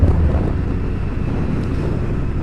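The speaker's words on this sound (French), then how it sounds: "Bon, il y a du vent." Strong wind in Brittany buffets the microphone with a continuous low rumble and roar, steady and close throughout with no voices.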